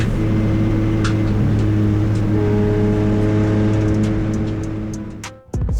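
CityCar race cars run at Silverstone, engines droning loudly and steadily under high revs from an in-car position, then cutting out with a sharp clunk and rattle near the end.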